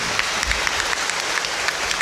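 A room full of people at a church gathering welcoming a bishop, dense and steady applause close by for a couple of seconds.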